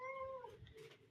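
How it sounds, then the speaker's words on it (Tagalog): A pet cat gives a single short meow, close and fairly quiet, with no talking. "Yung mga pusa ko."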